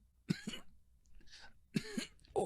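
A voice imitates a character coughing up blood during a tabletop role-playing game, producing a few harsh, throaty coughs in short bursts with brief pauses between them.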